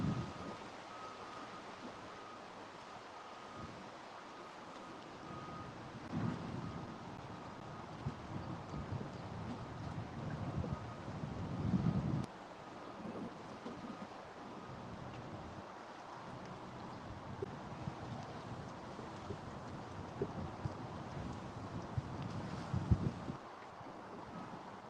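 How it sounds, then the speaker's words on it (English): Steady wind buffets the microphone out on the James River during a morning of fishing, a continuous rough rumble with occasional stronger gusts and faint water sounds beneath. "Just this wind is killer."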